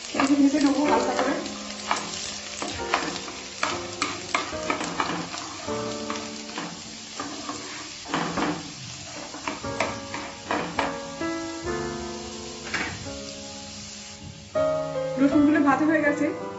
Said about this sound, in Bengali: রসুনগুলো ভাজা হয়ে গেছে, এগুলোকে আমি তুলে নেবো।